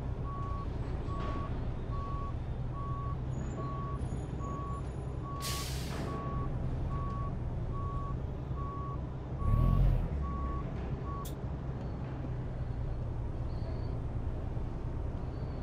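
A truck in American Truck Simulator backs up with a steady string of reversing beeps over a low diesel rumble, with a short hiss of air brakes partway through; close and continuous, no talk.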